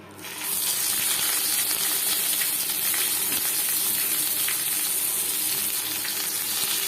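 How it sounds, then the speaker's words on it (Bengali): Hot mustard oil sizzles in a wok with a steady, hissing crackle that holds loud and even from start to finish. "পাতুরি ভাজবার জন্য কড়াইতে দিয়ে দিয়েছি 3 চামচ সরষের তেল।"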